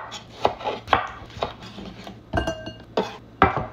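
A knife chops tomatoes for sinigang on a cutting board in sharp, evenly spaced knocks, about eight strokes close up, with no talking.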